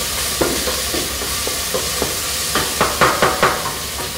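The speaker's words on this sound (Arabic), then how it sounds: "نحركهم كلهم مع بعض عشان تعطينا الريحه الحلوه" Broken black limes and cardamom are stirred together in a pan, the spoon scraping in a run of rhythmic strokes over a constant close sizzle that quickens toward the end.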